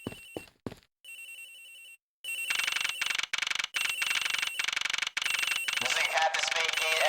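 A telephone in a video game rings in repeated electronic trills, starting with a few short bursts and then running as a long, loud, steady ring with brief breaks.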